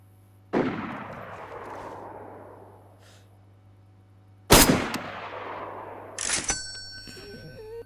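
Gunshots in the survival video game DayZ ring out from a distance: three sharp reports spread across several seconds, each with a long echoing decay, with no talking.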